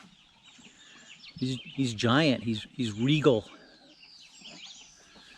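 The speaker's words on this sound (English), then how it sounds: "He's probably my favorite rooster." A Belgian Liege fighter rooster clucks and gives short throaty calls close by, with someone speaking briefly alongside.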